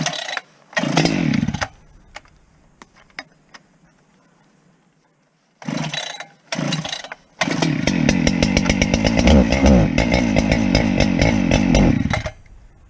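A 95cc chainsaw with a compression release, run with the choke on a cold morning of about 38 degrees: a few loud pull-start bursts and sputters, then the engine catches and runs steadily at high revs for several seconds, close by and with no talk.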